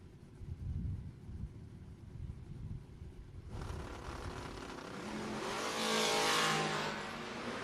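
A Plymouth Valiant and a Chevrolet Camaro drag racing side by side, low rumbling idle giving way to a loud, rising engine roar as the cars launch and pull away.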